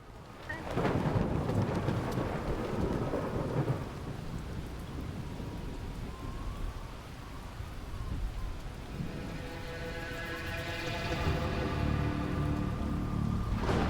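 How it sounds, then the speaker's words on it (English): Thunder rumbles through steady heavy rain in the video game Jenny LeClue, with a loud opening crack, a continuous downpour, and a long rolling peal building toward the end. "Lovely thunder sound."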